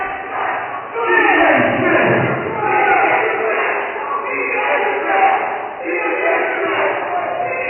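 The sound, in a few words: wrestling crowd cheering an announcement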